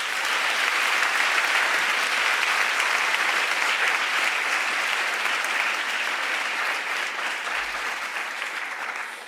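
An audience applauds steadily for several seconds, a dense, even wash of clapping that fades slightly toward the end, with no voices over it.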